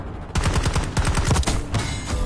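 Rapid automatic gunfire from a wall-bang kill in Black Ops 6, a close, loud burst of sharp shots in quick rhythm that runs almost continuously for about two seconds.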